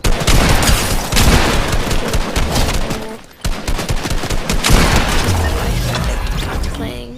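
Rapid gunfire in Fortnite, dense bursts of shots and booms filling the whole stretch with one brief break, loud and continuous with a voice talking over it.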